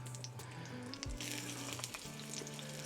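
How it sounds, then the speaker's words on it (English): An onion frying in a cast iron pan over an open flame outdoors, with a steady close sizzle and crackle throughout, a few brief knocks and faint background tones, and no talk. "We're going to get our onion right in that pan. It's going to take a little while for this to actually fry up."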